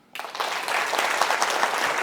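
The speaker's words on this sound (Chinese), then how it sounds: "来鼓掌" An audience at a lecture bursts into applause, dense and even clapping that starts abruptly after a short pause and stays steady and close throughout.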